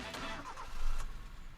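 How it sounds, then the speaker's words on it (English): A car engine starting in the anime Initial D: a brief cranking whir followed by a louder catch and rumble as the engine fires, with faint voices in the background. "Why don't you start her up for us, Itsuki? We want to hear it purr"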